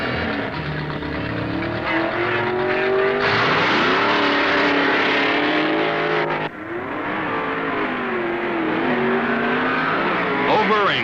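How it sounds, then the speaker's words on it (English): Drag racing at the 1969 NHRA Nationals, an automatic Plymouth Hemi Barracuda launching against a rival: loud engines roar and rev continuously, with gear-change breaks in pitch, as a narrator talks over the noise. "Plymouth's newest full-time pro, Don Grother of Oklahoma City, pits his automatic Hemi Barracuda against Southern Californian Wiley Cossey"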